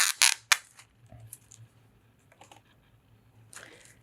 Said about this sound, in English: I'm going to go ahead and peel off the hovercraft sticker.